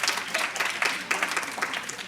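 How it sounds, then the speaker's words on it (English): Audience applause at a domestic violence conference, a steady dense wash of many hands clapping that fills the whole moment at even loudness with no talk over it. "Give her a round of applause."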